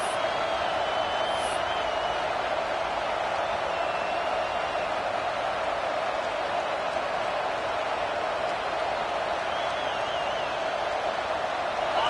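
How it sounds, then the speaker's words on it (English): Stadium crowd noise in the College Football 26 video game: a steady, continuous roar from a fired-up crowd that holds at an even level throughout, with faint higher whistles or shouts. "It's early, but this crowd is fired up. Listen to this noise here."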